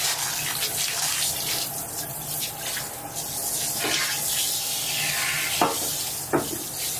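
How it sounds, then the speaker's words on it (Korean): Water from a handheld shower head rinses the inside of a toilet bowl fitted with a bidet, a steady hiss and splash with a couple of brief knocks near the end and no speech. "샤워기로 쭉 이렇게 헹궈줄 거예요"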